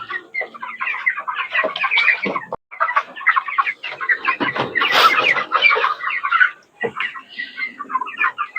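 A flock of chickens clucks and squawks busily at feeding time on a small farm, dense overlapping calls close by, with no one speaking.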